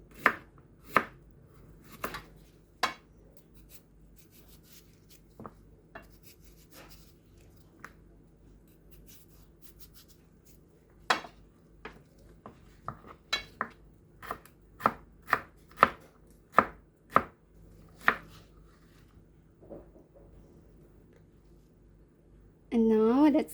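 A knife strikes a cutting board as a radish is sliced for a salad, giving sparse, irregular, fairly quiet chops spread over the stretch that cluster more tightly toward the end.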